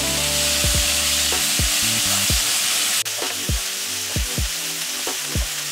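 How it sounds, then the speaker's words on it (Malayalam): Chopped tomato and onion saute in a hot pan for a paneer capsicum masala, giving a loud, steady sizzle and crackle throughout, with bursts of spatter and scraping from stirring. "ഇപ്പൊ നമ്മളിട്ട് തക്കാളിയും സവാളയും ഒന്ന് വഴണ്ടിട്ടുണ്ട്"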